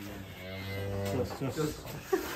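A large, jumbo-sized bull mooing once in a long, low, drawn-out call, fairly close, followed by some faint background voices.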